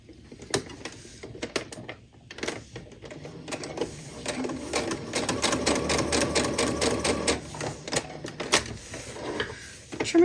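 Electric sewing machine stitching two fabric pieces placed right sides together for an easy Christmas project, a steady whirring hum broken by short pauses, then running in longer continuous bursts, close and fairly loud with no talking.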